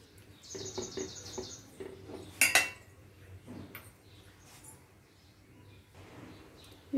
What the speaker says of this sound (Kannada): ನೀರು ಹಾಕ್ಕೊಂಡು ಚೆನ್ನಾಗಿ ಮಿಕ್ಸ್ ಮಾಡೋಣ